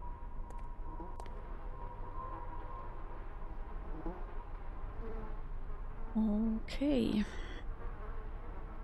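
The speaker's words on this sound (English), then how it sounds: "we can just hear the flies buzzing" Flies buzz throughout a dark corridor in the horror game Invitationem, a steady faint drone with a louder close pass near the end, and a person says a brief word.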